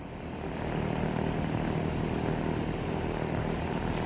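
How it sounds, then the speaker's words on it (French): A light propeller airplane flies over the Beaujolais hills after taking off from Villefranche-sur-Saône, its engine drone heard as a steady, loud, continuous buzz from close by, as if from aboard, with no voices. "cet avion survole le Beaujolais."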